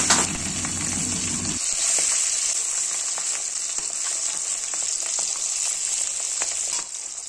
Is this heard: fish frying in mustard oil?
yes